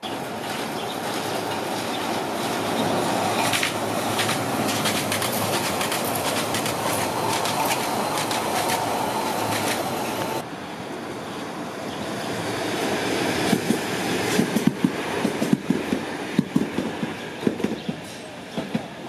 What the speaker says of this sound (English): compare the noise of the monorail to the noise of the tram